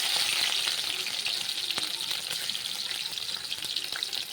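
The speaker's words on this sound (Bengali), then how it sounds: "এবার গ্যাসটা বাড়িয়ে দিলাম, দিচ্ছি তেলে রসুন" Garlic frying in hot oil over a raised gas flame, a bright, dense, continuous sizzle held close and steady throughout, with faint crackles scattered through it.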